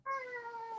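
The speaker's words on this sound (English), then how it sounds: "That is my dog." A pet dog gives a single short, tonal, whining cry close to the microphone, brief and clear against a quiet background.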